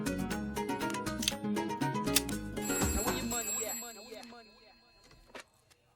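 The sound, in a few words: telephone ringing during a phone call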